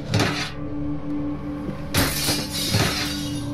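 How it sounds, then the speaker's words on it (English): A window smashed with a garbage can to break into a gun store: a loud burst of shattering glass, then a second crash with falling shards and tinkling debris. "He smashed through the window with a garbage can and stepped inside."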